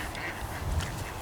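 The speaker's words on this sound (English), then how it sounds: "It's a duck." A duck by a fishing lake gives a couple of soft, low quacks, close but faint, against steady outdoor background noise.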